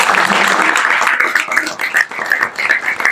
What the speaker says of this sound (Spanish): Démosles un cordial aplauso.